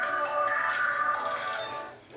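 A mobile phone ringtone goes off during a church service, a steady electronic melody of bright repeated tones playing for a couple of seconds and fading near the end, with no talk over it.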